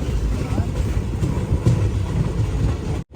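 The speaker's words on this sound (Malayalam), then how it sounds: "396 കിലോമീറ്റർ യാത്ര ചെയ്ത് ട്രെയിൻ ഇതാ മഡ്ഗാവ് ജംഗ്ഷൻ റെയിൽവേ സ്റ്റേഷനിലേക്ക് എത്തിക്കൊണ്ടിരിക്കുകയാണ്." Matsyagandha Express train rolling into Madgaon Junction railway station in Goa, a steady low rumble with rail clatter running loud and continuous for about three seconds before cutting off abruptly.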